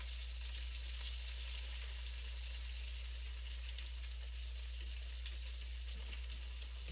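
Venison pieces being country fried in a shallow layer of hot oil, giving a steady, even sizzle and crackle that holds unchanged throughout, close and alone with no talking.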